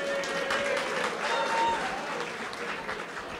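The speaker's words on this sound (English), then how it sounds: "Can we have a round of applause?" An audience at a Punjabi Chamber inaugural gala in Manhattan claps in a full, steady round of applause that swells in the middle and then tapers slightly.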